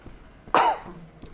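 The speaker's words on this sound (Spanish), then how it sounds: "Perdón si me escucharon toser, pero no lo puedo evitar a veces." A single sharp cough from a person playing Resident Evil 6, loud and abrupt and followed by a short throaty tail, standing alone against a quiet background.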